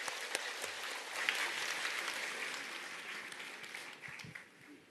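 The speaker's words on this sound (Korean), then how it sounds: "박사님을 힘찬 박수로 모시도록 하겠습니다." An audience gives applause to welcome a speaker onto a stage, a dense, even clapping that holds steady and then begins to thin and fade toward the end, no voices over it.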